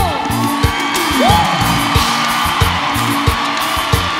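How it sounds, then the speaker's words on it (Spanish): Huge live concert crowd at the Astrodome cheering and yelling, a dense sustained roar with a rising whoop, punctuated by regular thumping beats from the stage throughout. "Dar un fuerte aplauso"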